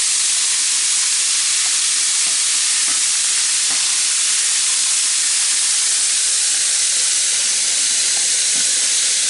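Shrimp frying in hot oil in a home kitchen, a steady dense hiss and sizzle running unbroken and fairly loud throughout, with faint scattered pops and no talking.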